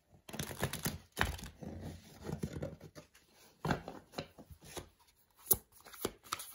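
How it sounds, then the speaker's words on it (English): A deck of tarot cards is shuffled up close in quiet, irregular bursts of soft riffling and slapping, separated by short gaps and with no talking. "shuffle better the cards."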